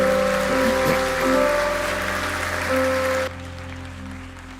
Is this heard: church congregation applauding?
yes